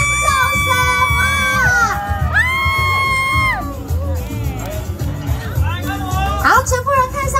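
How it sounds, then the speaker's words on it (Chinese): Fans at a Taipei Beitou concert scream and cheer in loud, sustained waves, with high shrieks rising and falling over a dense crowd roar. "各位粉丝朋友们热情的尖叫声啊"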